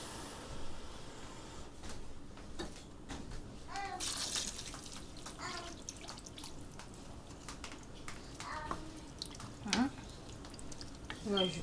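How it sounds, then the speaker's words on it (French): Water poured into a cooking pot during home cooking of a bean and meat dish, a soft trickle and splash with small clinks of the pot, running under continuous kitchen background noise. "Je vais ajouter de l'eau."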